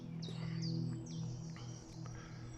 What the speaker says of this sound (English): You'll probably be able to pick up that lovely bird sound.